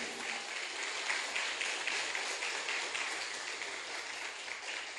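A church congregation applauding in praise, a steady wash of clapping from many hands that holds evenly across the whole stretch at moderate, somewhat distant level, with no distinct voices on top.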